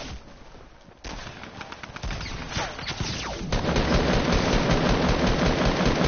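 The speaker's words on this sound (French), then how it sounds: "parce que on se tire dessus" Dense automatic gunfire in a PS4 online shooter, rapid bursts layered into a loud, continuous battle din that swells and stays heavy toward the end, with no voices over it.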